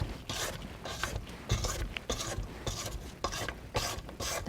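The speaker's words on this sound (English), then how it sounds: "I'm going to scrape down the bowl again." Spatula scraping down a mixing bowl of smooth cheesecake batter, a soft rhythmic rasping in repeated strokes, close and fairly quiet, with no talking.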